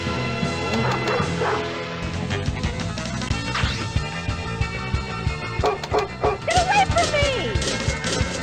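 Dog barks and yips from a pinball video game, a run of quick, loud bursts over busy game music, electronic effects and crashes, with a voice talking along.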